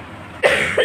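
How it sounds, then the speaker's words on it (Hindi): Two coughs, a sharp one and then a shorter one, close up with quiet room noise before them. "खांसी मेरी सही नहीं हुई अभी तक"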